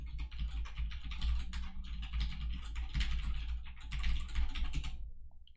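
Someone types code on a computer keyboard, a fast, continuous patter of close key clicks with brief pauses and a low hum underneath.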